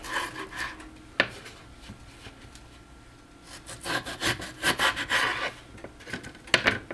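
A kitchen knife slices through raw potatoes for fries, giving a series of rough, scraping cuts with short pauses between, close and fairly quiet, with a busier run of strokes toward the end.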